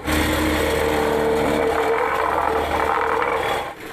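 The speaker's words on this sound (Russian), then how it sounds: "Этот шум техники для жителей улицы Возрождения – своеобразный будильник, сигнал о том, что на дороге ремонт." Heavy road-repair machinery resurfacing asphalt drones steadily, a loud continuous engine roar with mechanical whine, unbroken throughout.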